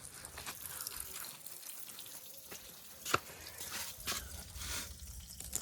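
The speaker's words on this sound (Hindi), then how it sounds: "अब पानी भर जाएगा ना फिर मिलेगा।" Water runs into a container in a steady, low hiss and trickle with a few small splashes and drips, heard fairly quietly with no talk.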